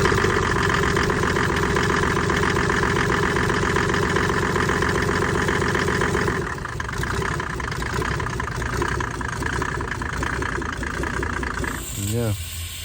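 A Mercedes OM606 diesel engine swapped into a W126 chassis idles on its first start with no exhaust fitted, a loud raw steady clatter that drops slightly midway, with a voice talking near the end.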